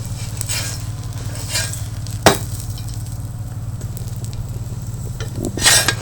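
Aloo kulcha frying in a pan gives a steady close sizzle, with a few sharp crackles and a brief burst of spattering near the end, no one speaking.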